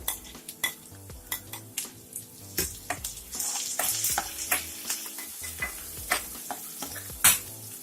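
Green chili, ginger and garlic fry in a pan with a constant sizzle, broken by frequent sharp scrapes and clinks of a spoon stirring against the metal, close and alone.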